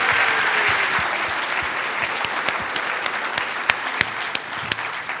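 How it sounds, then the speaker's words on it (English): Audience at a keynote session giving an award recipient another round of applause, a dense sustained clapping with a few sharp, close individual claps standing out near the end. "I think if we could just give her another round of applause for her fantastic efforts"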